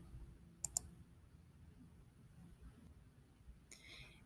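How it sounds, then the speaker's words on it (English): Two quick, faint computer mouse clicks close together, a right-click on a folder in a quiet room, followed a few seconds later by a soft higher-pitched click or chime. "So I'm going to right-click on this folder."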